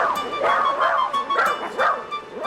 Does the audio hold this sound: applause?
no